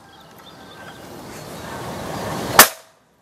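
A single sharp gunshot-like crack from a Ruger Classic Black Army PCP air rifle near the end, following a slowly rising rush of background noise, then quick silence.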